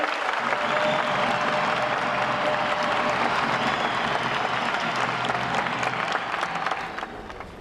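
A large crowd at a 1997 rally in Lubumbashi, Congo, applauds steadily and loudly, the clapping sustained throughout and tapering slightly at the very end.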